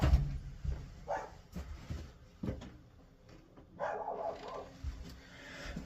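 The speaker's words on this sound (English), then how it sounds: "I had to see what that dog was barking at." A dog barks a few times at moderate distance, short separated bursts with quiet gaps and some faint household knocks between them.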